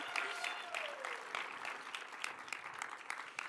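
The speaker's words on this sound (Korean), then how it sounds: "박수 좀 쳐주세요." Audience applause at a Korean intercessory prayer meeting, a dense scatter of claps lasting a few seconds, moderately distant and fairly faint, with a brief voice underneath.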